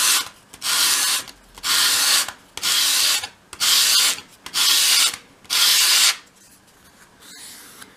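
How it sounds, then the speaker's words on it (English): A miniature wooden desk top edge, 1/12th scale, swept across sandpaper to bevel it, giving six even, steady rasping strokes with short pauses between, close and clear with no talk. "hold the piece against your sandpaper at a 45 degree angle and sweep it towards you, keeping it at that angle"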